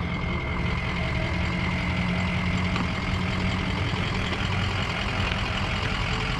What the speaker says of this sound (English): Diesel truck, nice and noisy.